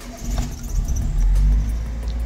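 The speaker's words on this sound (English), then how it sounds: "Start the car." An Opel Corsa B with an idling fault starts up: a low, close engine rumble that swells into a brief rev and then settles back toward a rough idle.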